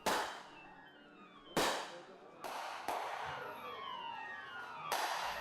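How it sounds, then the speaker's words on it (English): A military rifle fires at an Armed Forces Day event: about five sharp, loud cracks at uneven intervals, each trailing off in a ringing echo, with faint background noise between shots. "Hyunbin attempts to fire a rifle guided by military personnel."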